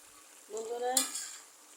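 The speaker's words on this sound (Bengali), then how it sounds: "প্রায় কষানো হয়ে গেছে" Jackfruit seeds, mixed vegetables and dried fish sautéing in a pan, a short burst of sizzling and stirring that swells and fades after a quiet start.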